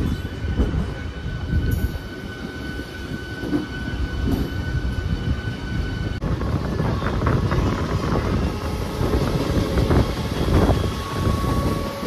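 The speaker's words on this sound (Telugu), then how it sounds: "మళ్ళీ ట్రైన్ స్టార్ట్ అవుతుంది" A MEMU Express train rumbles steadily along the tracks between Khammam and Yerrupalem, loud and close, with rhythmic wheel clatter, faint squeals and wind buffeting the microphone throughout.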